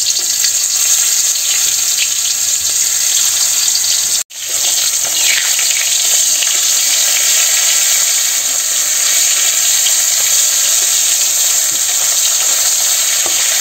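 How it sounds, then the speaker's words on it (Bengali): Koi fish frying in a pan with salt and turmeric, a steady loud sizzle and crackle of hot oil running throughout, broken once by a brief near-silent gap early on, with no talking. "এই যে মাছ ভাজা শুরু হয়ে গেছে"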